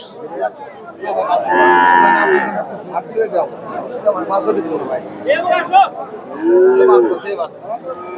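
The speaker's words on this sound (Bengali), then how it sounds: "এখানে একটা দেখেন সুন্দর একটা গরু দেখতেছি" Friesian bulls and cattle at a busy market in Bogura, Bangladesh, lowing in several long, loud moos close by, with people talking throughout.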